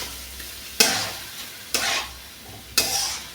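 A spoon stirring raw rice with water in a pot for basonti polao, giving three separate bursts of wet scraping and swishing with quiet pauses between, close-up and fairly loud.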